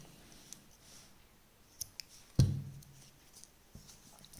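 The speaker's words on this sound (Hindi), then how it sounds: "यहाँ पर धागा काट देंगे" Scissors snip crochet thread with one sharp, close cut, surrounded by faint clicks and handling noise in a quiet room.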